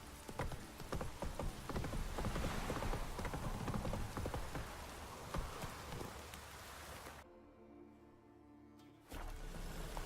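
Horse hooves clatter in a fast, continuous galloping rhythm, close and loud, within the video game The Witcher 3, mixed with a rain-like patter before cutting out briefly near the end.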